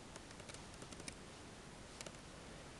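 Light typing on a Dell Inspiron 1525 laptop keyboard: soft, quiet key clicks tapped in small irregular clusters over a very faint background, with a couple of slightly sharper taps.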